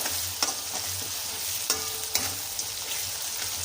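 Capsicum and tomato gravy with asafoetida, salt and turmeric fries in a pan, a steady close sizzle broken by a few scraping stirs of a spoon.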